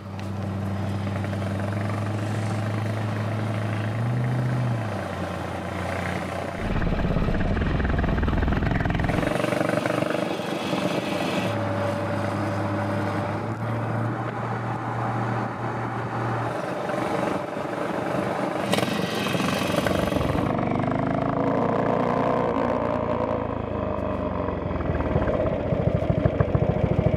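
A 350 Scrambler motorcycle engine while riding, a steady low drone with rising and falling revs and wind rush throughout, held at a constant level over the whole stretch.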